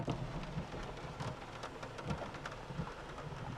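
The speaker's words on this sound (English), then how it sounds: "Oh yeah, let's get rained on a little bit." Rain pours through the open sunroof of a Ford Focus and patters onto the car, a dense, steady drumming of drops with a few heavier splats, fairly soft.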